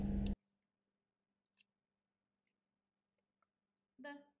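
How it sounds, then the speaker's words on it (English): Scissors trimming excess lace net close along a fabric seam, heard as a few faint, sparse snips and clicks in near silence, framed by short louder sounds at the start and end. "Cut the extra pieces, leaving just a couple of millimeters to the seam."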